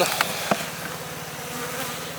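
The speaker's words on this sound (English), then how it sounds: "I got a decent amount of bees in it also." A steady, low insect drone of many honey bees buzzing close by around a hive box, continuous throughout, with a couple of brief clicks near the start.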